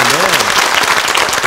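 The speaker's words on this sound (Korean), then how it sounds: "박수 한번 쳐드릴게요" A studio audience on a Korean morning talk show breaks into loud, close applause, with a voice briefly heard at the start over the dense clapping.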